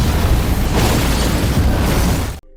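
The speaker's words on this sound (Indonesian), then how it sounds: "ledakan itu akhirnya terjadi di luar gedung tanpa menimbulkan korban jiwa." A large explosion goes off outside a building in the TV series The Boys, a loud, sustained rumbling blast that roars for over two seconds and then cuts off abruptly.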